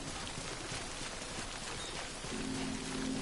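Steady rain in the video game Death Stranding, a dense even hiss of drops falling throughout with no talk over it, and a faint tonal hum entering near the end.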